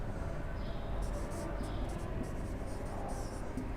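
Chalk or marker scratches steadily across a classroom board during an English grammar lesson, continuous and moderately close beneath a noisy room hum, with no talking.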